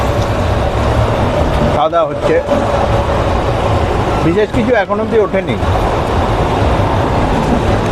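The Ispat Express train rumbles steadily on its run from Kolkata to Ghatshila, a loud continuous roar heard from inside the carriage, with people talking over it.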